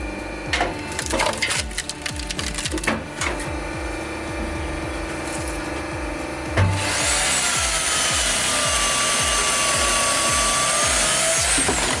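A homemade hydraulic log splitter drives a steel wedge through frozen birch, with loud rhythmic creaking, crunching and splintering wood, then a sustained steady roar of hydraulic machinery close by.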